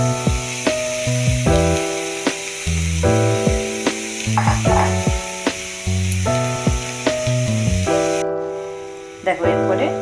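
Chicken pieces frying in a pan give a steady broadband sizzle throughout, largely covered by loud melodic background music.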